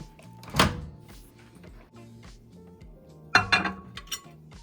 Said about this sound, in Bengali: এখন বাটিটিকে আমি মাইক্রোওয়েভ ওভেনে দিয়ে দেব।